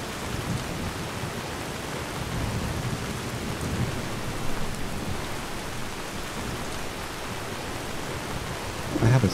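Steady rain falling at night, a dense continuous hiss of drops with a low rumble underneath, close and unbroken, with a slight swell near the end.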